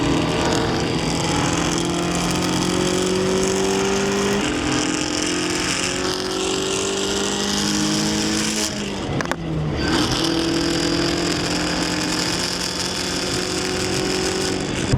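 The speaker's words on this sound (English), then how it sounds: "At any kind of enthusiastic RPM, the motherfucker rattles a lot." Engine of a tuned Mazda Miata heard from inside the car as it drives, droning and climbing through the revs, easing off and rising again around a gear change, with a constant loud cabin rattle.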